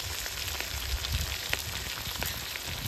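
Herbal hair oil with fenugreek and squeezed lime bubbling over heat, a soft continuous crackling sizzle at low level while being stirred, with faint occasional spoon knocks.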